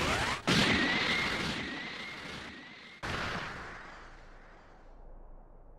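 A loud energy blast (the Special Beam Cannon attack in Dragon Ball Sparking! Zero) erupts with a rising whine, fades, then a second crashing burst hits and trails off into a long, decaying rumble.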